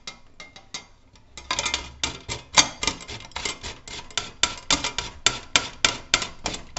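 Cabbage scraped over an old hand grater gives a run of rhythmic rasping strokes, close and loud, quickening into a steady beat with no talk.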